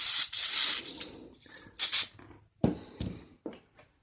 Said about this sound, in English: This is some NAPA engine degreaser. I'm going to use this to clean up this intake mounting plate, or this adapter plate here.